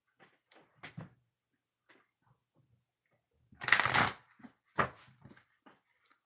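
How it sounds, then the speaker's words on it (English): Oracle cards shuffled by hand, heard as a loud dense riffle burst in the middle with a few soft taps and card handling sounds before and after, no talking. "2 shuffles."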